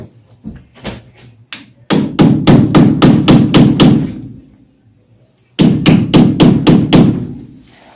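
Rapid metallic hammer taps strike a screwdriver to pry off a car hubcap, in two bursts of about eight sharp hits each, close and loud, with a few lighter taps first.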